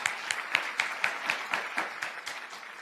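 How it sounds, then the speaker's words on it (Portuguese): Audience applause for José Benício, guest CEO of Casa do Crédito, at a live talk-show taping; a steady patter of claps, moderately near, with sharper individual claps standing out in rhythm, no talk. "Aplausos para o José Benício."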